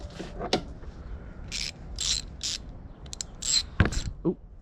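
A ratchet loosening a part on a 1997 Ford Crown Victoria, several short bursts of rapid clicking, close and clear, separated by brief pauses, with no talk.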